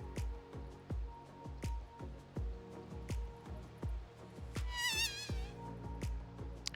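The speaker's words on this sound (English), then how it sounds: "loves that mosquito buzz noise for some reason" Mosquito-like insect buzz from a Dota 2 esports broadcast at ESL One Thailand 2020, a short warbling whine rising around the five-second mark over a steady run of rhythmic game effects.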